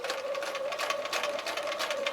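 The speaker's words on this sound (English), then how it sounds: "if I put this up my sewing machine and I start sewing, I should come onto my fabric right at that V." Sewing machine stitching quilt fabric, a steady, fast mechanical whir with a rapid needle rhythm, close and continuous throughout.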